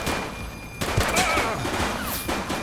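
Rapid bursts of gunfire in the police video game The Precinct, loud and close with thuds and crackling shots over a busy mix.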